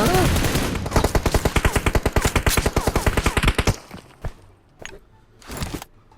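Rapid automatic gunshots in PUBG Mobile, a fast even string of loud close shots for several seconds, then a few scattered single shots and softer impacts as things quiet down.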